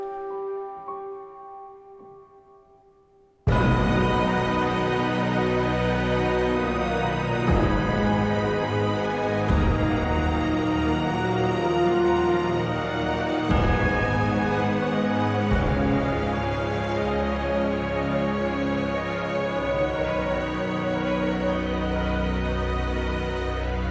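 Epic orchestral soundtrack built from a metal sample, with piano, violins, flutes and oboes: a quiet sustained tonal intro gives way after a few seconds to a loud, dense, continuous full arrangement with steady rhythmic low hits.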